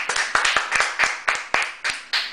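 Applause for Bruce on a Spanish-language show: roughly a dozen sharp, distinct hand claps in a brisk, slightly uneven rhythm, close and fairly loud.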